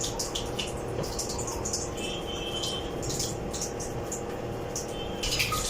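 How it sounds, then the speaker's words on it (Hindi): Water flowing steadily from a Kangen water ionizer, a constant even rush with faint higher splashing throughout and no speech. "जैसे हमने पावर ऑन किया तो हमें कैंगन वाटर मिल रहा है।"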